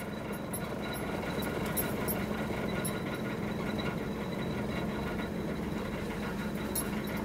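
A Ford Pinto station wagon's engine idles steadily, a continuous mid-level rumble with a faint vibrating knock, constant throughout with no voices.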